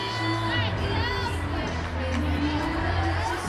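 A gymnastics arena crowd at a women's championship murmurs and cheers steadily, a continuous, fairly loud wash of voices and scattered whoops.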